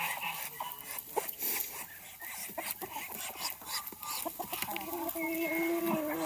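Chickens in a backyard flock kept with Muscovy ducks cluck steadily and fairly close, with overlapping short calls and a few louder squawks over a low outdoor background.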